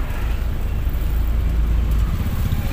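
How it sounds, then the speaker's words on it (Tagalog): A tricycle engine passes on a provincial road between Passi and Anilao, a loud steady rumble of motor and road noise throughout. "Tricycle talaga."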